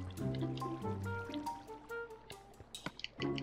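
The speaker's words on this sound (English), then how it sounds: "Put our last bucket of water" Water poured from a bucket into a sugar cane farm build in Minecraft, a soft trickling, filling splash with a few brief drips and clicks, fairly quiet and without talk.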